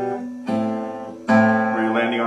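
Guitar plays a well-known song's intro phrase with an added harmony on the second string: a few clean plucked notes and a brighter chord ringing out, close and clear with no voice.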